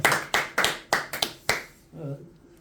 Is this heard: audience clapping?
yes